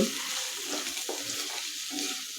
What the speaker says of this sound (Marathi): आता हे दोन मिनिट आपण छान परतून घेऊया